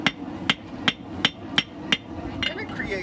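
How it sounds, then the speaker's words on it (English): Hammer blows on hot forged steel as a blacksmith flattens out a twisted section of a knife blade: six sharp, ringing strikes at a steady, even rhythm, close and clear, with the last blow softer before the ringing fades. "Now I'm just hammering out where I twisted it again."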